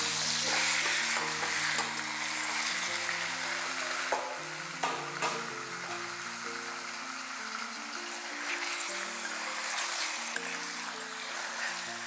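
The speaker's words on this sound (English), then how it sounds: "Fry the chicken till most of it turns white." Chicken pieces stir-fry in sesame oil with ginger and spring onion, producing a loud continuous sizzle with repeated spatula scrapes and stirring clatter, heard up close over light background music and without speech.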